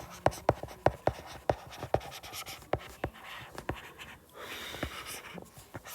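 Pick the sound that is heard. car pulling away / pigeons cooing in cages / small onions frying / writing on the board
writing on the board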